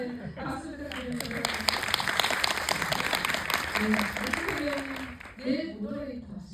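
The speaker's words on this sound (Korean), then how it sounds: "네, 박수 부탁드립니다." An audience at a film screening Q&A claps steadily while voices talk over the applause throughout, with a speaker's voice rising clearly near the end.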